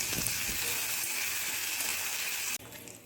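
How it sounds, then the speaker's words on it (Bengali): Ginger paste frying in oil makes a continuous bright sizzle with a watery, gushing texture, steady and close, then drops abruptly to a quieter hiss near the end. "আর তেলের উপর দিয়ে আদার যতক্ষণ না কাঁচা গন্ধ যাচ্ছে ততক্ষণ আদাটাকে কষে নিচ্ছি"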